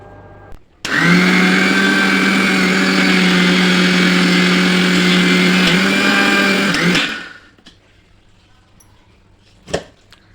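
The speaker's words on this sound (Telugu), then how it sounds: "ఇది కూడా బాగా మిక్సీ పట్టుకొని పౌడర్ చేసుకున్నాము." A kitchen mixer grinder powders oats and dry fruits, running as a loud, steady electric whir from about one second in until it winds down near seven seconds, followed by quiet with a brief knock near the end.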